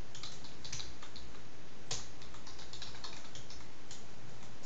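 Steady computer keyboard typing while entering code, rapid uneven key clicks with a few sharper taps, close and clear with no voice.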